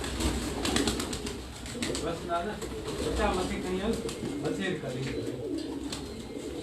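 Pigeons in a rooftop loft in Larkana, Sindh, some sitting on eggs, keep up a low continuous cooing under someone speaking nearby throughout.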